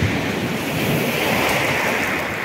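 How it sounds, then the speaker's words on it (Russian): Sea of Okhotsk waves slosh and crash against a fishing boat's hull amid constant wind rush, a dense, loud wash of water with no voices. "Волна, конечно, сегодня долбит немножко."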